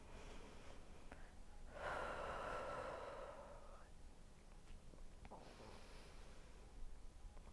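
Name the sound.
deep breathing during a lunge hip stretch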